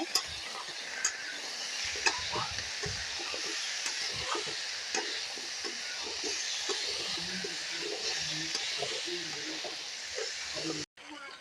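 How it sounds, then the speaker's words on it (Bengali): Potatoes frying in oil with a soft continuous sizzle, while a spoon scrapes and stirs through the pan in irregular clatters. "নাড়াচাড়া করে নেবো আলুটা একটু ভাজা ভাজা হবে"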